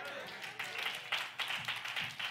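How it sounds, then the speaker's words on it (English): Hand clapping from a congregation at a Sunday worship service, faint, uneven claps recurring over a few seconds in a reverberant room, with voices underneath. "please give the Lord a hand clap"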